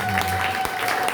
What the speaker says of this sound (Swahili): Tupigie Bwana Yesu makofi.